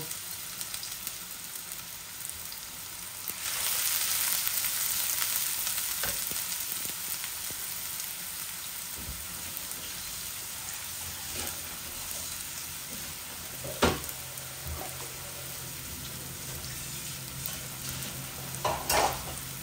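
Onions and dried red chillies fry together in a pan, producing a soft, steady, hissing sizzle that swells early on, with occasional clinks and scrapes of stirring heard close by.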